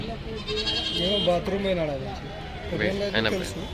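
Sheep bleat at the busy Pebbair livestock market, several wavering, drawn-out calls close by and overlapping one another over a steady murmur of market noise.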